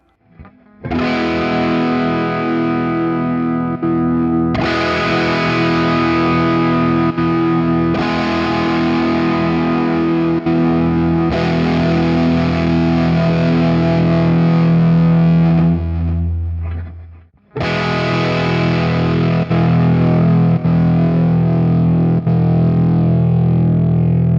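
Heavily distorted electric guitar through an Axe-Fx amp modeler preset into a 4x12 cabinet plays sustained, ringing chords in long held sections, loud and close, with one brief drop to silence partway through.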